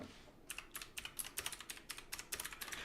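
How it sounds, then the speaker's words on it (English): Rapid, uneven typing on a computer keyboard, a burst of crisp clicks that rises and falls in loudness, close and alone with no voices. "he's typing like the Gabby Hanna meme"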